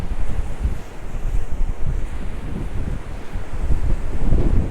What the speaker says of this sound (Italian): spero che il microfono funzioni, poveretto, con tutto sto vento